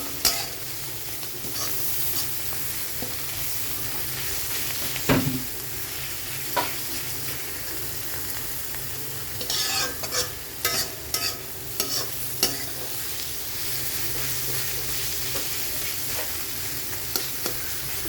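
Carrots and paneer sautéing in a pan, a steady low sizzle with frequent stirring and occasional clinks of a utensil against the pan, close and alone with no talk.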